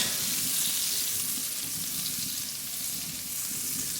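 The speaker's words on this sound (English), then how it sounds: "once the butter is nice and sizzling, move it around" Steady crackling sizzle of butter in a hot frying pan, continuous and close, with faint stirring and no voices.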